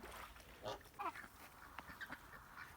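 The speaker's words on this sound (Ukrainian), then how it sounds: "йдемо глянемо, що там наші молоді гусочки" Several short honking and quacking calls from young Kholmogory geese, moderately close, with a faint noisy background between the calls.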